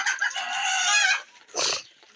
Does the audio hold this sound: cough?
no